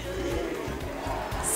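CRB fans celebrating a state championship win in the Rei Pelé stadium, a loud, dense crowd roar with rhythmic chanting pulses, brief and continuous.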